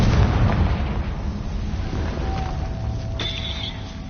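A Confringo spell blast in Hogwarts Legacy, a loud low booming burst that rumbles and fades, followed by a thin ringing tone.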